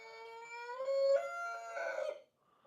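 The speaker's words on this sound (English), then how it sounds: "Wow, that was quite the chicken." A rooster crows once in a long, drawn-out cock-a-doodle-doo, loud and close, trailing off before a brief quiet end.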